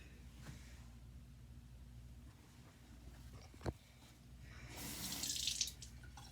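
Water runs from a tap to wet a makeup sponge, a soft steady stream that brightens and swells near the end, with a single sharp knock partway through and no talking.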